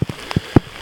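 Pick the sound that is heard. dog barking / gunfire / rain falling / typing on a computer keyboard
rain falling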